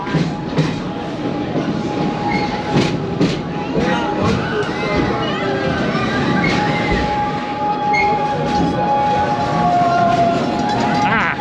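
A steel roller coaster train, 80 feet tall and reaching 45 miles per hour, rattles and clatters along its track with squealing wheels and a steady rumble, people talking and shouting over it.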